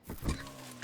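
A wild boar in Red Dead Redemption 2 gives a short, low, rough grunt, close and brief, with a quiet background hum.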